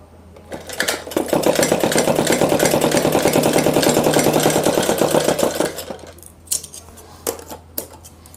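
A sewing machine runs in one steady, fast burst for about five seconds, stitching piping onto suit fabric. It is close and loud, starts and stops cleanly, and a few faint clicks and handling noises follow.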